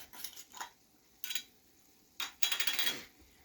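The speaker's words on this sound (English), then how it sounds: "And I'm going to stir in 1/4 teaspoon of cayenne pepper." A spoon stirring 1/4 teaspoon of cayenne pepper into a pot of stuffed cabbage, heard as four short clinking scrapes of utensil against metal, close and light, with quiet pauses between them.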